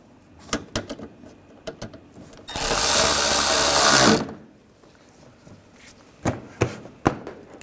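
A power tool drives a screw on a 2009-2010 BMW 535i xDrive front bumper cover in one loud, close burst of about two seconds, surrounded by scattered clicks and handling knocks.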